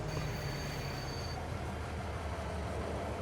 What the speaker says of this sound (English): Quite liking using the train.